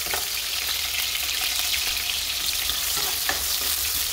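Sliced onions fry in a pan for a Sylheti dry fish and potato curry, a steady loud sizzle and crackle running throughout with a few faint scrapes of a spoon.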